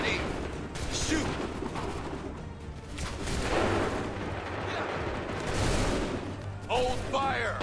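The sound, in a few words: musket volley fire in the video game Assassin's Creed 3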